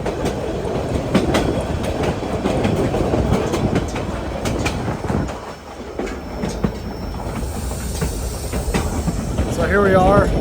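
A narrow gauge train rolls steadily along the rails near Skagway, Alaska, with rhythmic clickety-clack and a hissing rumble, loud and close, continuing for the whole stretch.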